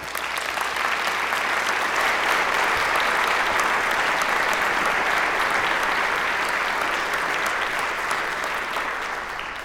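Sustained applause from a convention audience welcoming a plenary speaker, steady and dense throughout, alone without talk.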